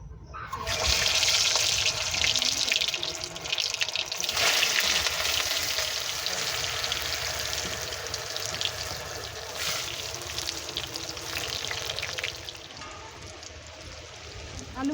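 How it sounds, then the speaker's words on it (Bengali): Potatoes frying in hot oil in a wok while cooking a chicken dum biryani at home, giving a steady, loud, continuous sizzle throughout with no talking. "তেলটা গরম হয়ে গেছে, এবার আলুগুলো ভেজে নেব।"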